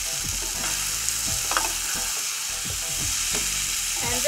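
Spirali pasta tossed into a hot pan and stir-fried for a Madras-style dish: loud, close sizzling with rhythmic scraping and clattering of a spatula across the pan, no voices.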